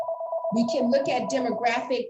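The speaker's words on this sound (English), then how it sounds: "I apologize that my phone never rings, my landline." A landline telephone rings with a steady electronic tone running continuously beneath a person speaking over it.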